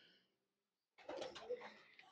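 Soft, low cooing from pigeons in a breeder's loft, a brief faint murmur following a short pause, with quiet rustling around it.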